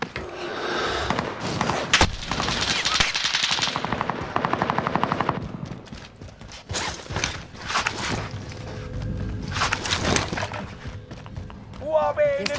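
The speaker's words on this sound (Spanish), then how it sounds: "¡Nos están disparando!" Rapid automatic gunfire bursts in a Call of Duty: Modern Warfare match, with repeated clattering volleys and a helicopter-like drone underneath, loud and close, mixed with game voice callouts.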